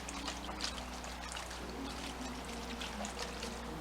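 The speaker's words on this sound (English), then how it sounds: "we want to wash each individual leaf. Do not try to do it in a bunch." Collard green leaves being washed one at a time in a sink of water, with a steady pour and trickle of water running continuously at close range, a low hum beneath, and no talking.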